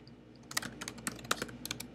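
Password typed on a computer keyboard, a short burst of about a dozen close, crisp key clicks in an uneven rhythm, with no voices.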